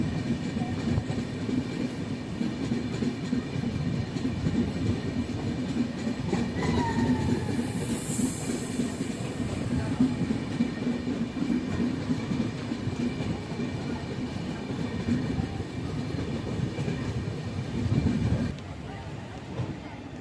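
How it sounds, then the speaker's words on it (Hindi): A Gondia Barauni Express passenger train runs steadily for the whole stretch, a constant loud rumble of wheels on rails with faint clicking, heard from inside a general class coach. A brief high squeal rises partway through. "हमारी ट्रेन यहाँ से कटनी सतना की ओर बढ़ेगी।"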